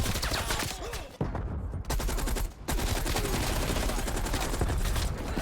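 An RPD machine gun fires in Black Ops Cold War, dense rapid bursts of loud gunfire with short gaps between strings of shots, nearly continuous throughout.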